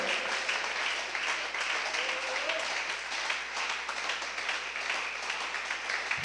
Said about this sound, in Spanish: Bríndele un aplauso al Señor Jesucristo